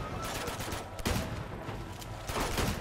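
Shotgun blasts ring out in Uncharted: Drake's Deception during a jungle firefight in Borneo, with dense, sustained gunfire and sharp louder reports near the start, middle and end.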